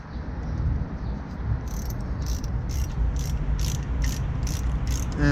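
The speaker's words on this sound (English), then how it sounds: "we're gonna start loosening up the bolts that hold the caliper onto the hub" Close and steady, a ratchet clicks in a quick, even rhythm while loosening the rear brake caliper bolts on a Maserati Quattroporte, set over a constant low background hum.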